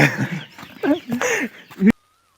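A chicken clucks close by in a short run of choppy, nasal squawks that stops abruptly after about two seconds.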